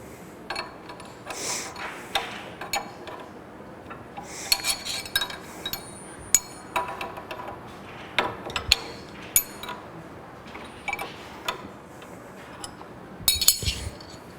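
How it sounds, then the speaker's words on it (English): Metal wrenches, a 20mm open-end wrench and a collet wrench, clink and tap against the collet of a router, giving scattered short metallic knocks and rattles at close range with quiet pauses between them. "you'll grab your wrenches that are supplied, which are your 20mm basic open end wrench and your collet wrench."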